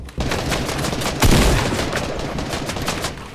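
Gunfire in Fortnite from a weak shotgun: a loud close blast cuts in, a heavier shot follows about a second later, and rapid crackling shots and battle noise carry on behind.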